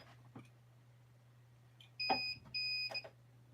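A mug printing machine emits two short electronic beeps close by in a quiet room, each a steady high tone, with faint handling noises around them.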